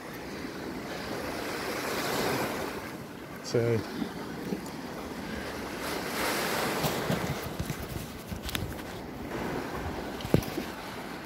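Sea waves wash onto the foreshore at Skegness on a calm morning, a steady, moderately loud surf wash with gusts of wind across the microphone, while a person speaks briefly nearby.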